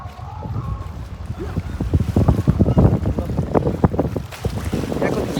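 Cold wind and sea waves at Oido Beach in South Korea: gusty wind buffets the microphone in loud bursts over the low wash of surf, with no talk.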